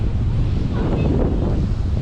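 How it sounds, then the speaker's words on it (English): Strong wind gusts batter the microphone at the seaside at high tide, a loud, continuous low roar with surf blended underneath, steady for the whole stretch. "Quite windy today."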